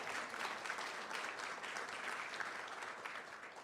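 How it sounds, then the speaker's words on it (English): Applause for the Anderson County High School chorus and young singers at an evening county board meeting, a steady, fairly distant wash of clapping from a seated audience that holds evenly throughout. "Let's give our chorus from the Anderson County High School and our littles another round of applause"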